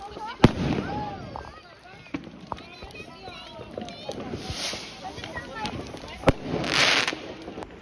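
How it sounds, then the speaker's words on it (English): Fireworks going off on bonfire night, with sharp bangs, crackles and whooshing bursts spread through the clip at a moderate distance, mixed with the chatter of people outdoors. "I just got a firework."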